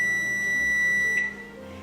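Kitchen timer alarm sounding as the gravy finishes, a steady high-pitched electronic beep close by that stops abruptly, leaving quiet room tone.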